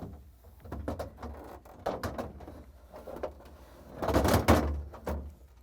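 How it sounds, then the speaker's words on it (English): Several soft knocks and bumps of a Whirlpool refrigerator's plastic storage pan being set onto rollers, ending in a louder sliding, rumbling scrape near the end; no talking. "I'm gonna place it onto the rollers here"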